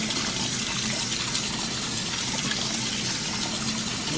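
Turkey wings are rinsed under a running kitchen tap, water gushing and splashing in a steady continuous stream with no talking.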